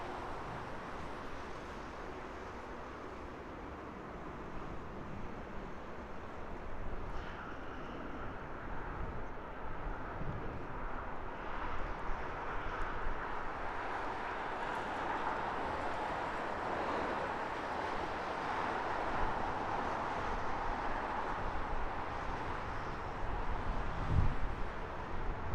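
British Airways Boeing 787-9 Dreamliner taking off from Heathrow, bound for Chennai: a steady, broad roar of jet engines with wind, building slightly over the run and holding loud throughout, with no talk.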